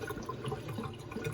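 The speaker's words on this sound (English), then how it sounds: "Now you want to run cold water on them after this to stop the cooking process." Cold tap water running over cooked noodles, a short continuous splashing stream with soft gurgles, close and fairly quiet, no talking.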